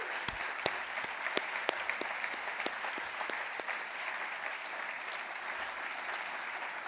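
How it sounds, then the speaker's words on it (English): Sustained audience applause fills an awards gala hall, a steady wash of many hands with a few sharper claps standing out, moderately distant and even throughout. "let's have a round of applause for what an extraordinary amount of winners tonight"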